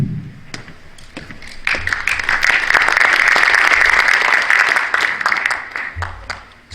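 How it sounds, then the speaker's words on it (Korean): An audience bursts into applause to welcome a guest at a Christian private school vision ceremony worship service in Underwood Memorial Hall, clapping swelling to a full, dense ovation before tapering off into scattered claps. "잠깐 일어나서 인사하실 때 박수로 환영하겠습니다."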